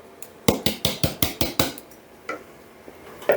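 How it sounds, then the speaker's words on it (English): Ginger loaf cake batter is stirred in a bowl, the spoon knocking the side in a quick, even run of about nine sharp clacks, then a pause and a few scattered taps. "you're just going to keep stirring and stirring at this until it all comes together"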